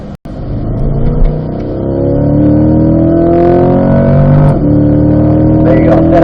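Race car on a track accelerating hard through the gears, engine note climbing steadily and loud, close to the listener, with a brief dropout near the start.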